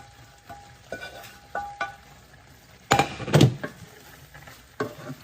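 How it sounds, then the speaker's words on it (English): A spoon scrapes and clinks through raw shrimp and cauliflower rice in a pot, several separate stirring strokes with a soft sizzle underneath and a louder scraping burst in the middle, close and alone. "I'm sort of mixing it from the bottom so that the raw shrimp will cook, as well the cauliflower rice"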